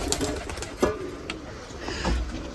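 Pigeons in a cage cooing: soft, low, repeated coos with a few wing flutters and shuffles, close by and with no one talking.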